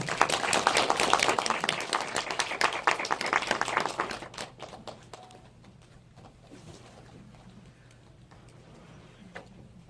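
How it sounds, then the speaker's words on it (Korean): An audience at a Korean film screening Q&A claps to welcome the actors and director, a loud burst of many hands for about four seconds that thins into scattered claps before fading to near quiet. "큰 박수 부탁드릴게요"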